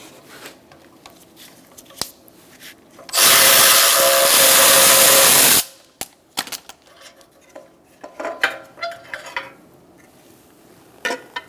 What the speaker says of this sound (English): Using an 8mm socket, I'm going to remove this bolt for the horn.